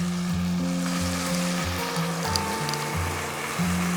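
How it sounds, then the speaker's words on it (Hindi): Potatoes frying in oil with crushed chili, turmeric, coriander powder and salt for aloo ki tarkari, a steady close sizzle with a low hum running underneath. "अब हम इसको अच्छे तरीके से फ्राई कर लेंगे"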